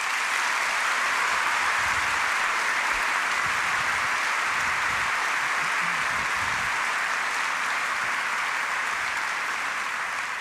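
A large audience at a panel forum on Islam at The Richmond Forum applauds its panelists, steady sustained clapping filling the hall at an even loudness throughout.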